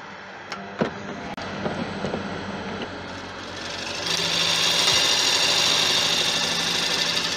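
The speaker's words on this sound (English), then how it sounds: "I'm going to sharpen the gouge because you don't cut with an unsharp gouge." A woodturning gouge is sharpened on a powered grinder: a motor hums with a few clicks and knocks, then after a few seconds a loud steady grinding hiss takes over.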